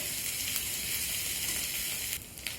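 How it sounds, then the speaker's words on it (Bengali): Grated ginger sizzles and fries in a pan while it is stirred, with a steady, close hiss that holds through the whole clip. The sizzle drops a little near the end. "আলুটা দেওয়ার আগে আমি দিয়ে দিলাম গ্রেট করে রাখা আদাটাকে একটু নেড়েচেড়ে ভেজে নেব।"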